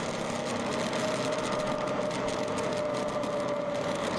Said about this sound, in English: I said that's an engine sound